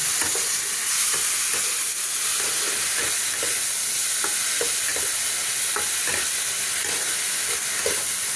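A paste of poppy seed, mustard, sesame and green chili frying in a pan for a Bengali fish dish, giving a steady loud sizzle with soft stirring scrapes throughout and no voices.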